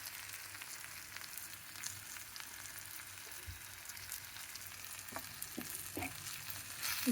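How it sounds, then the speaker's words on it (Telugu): Masala vermicelli frying in a pan with turmeric, chilli and coriander powders, a steady close sizzle with a few light stirring scrapes near the end. "ఇలా వేయించుకోవాలి."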